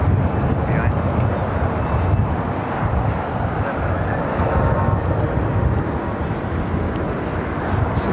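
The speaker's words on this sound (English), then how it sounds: "Korean Air heading to the north side, making that right-hand turn onto taxiway Pampa" A Korean Air airliner taxis and turns onto a taxiway at LAX during extreme winds, a dense low rumble of engines mixed with gusting wind buffeting the microphone, continuous and fairly loud.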